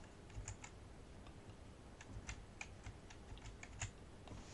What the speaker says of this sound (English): use the arrow keys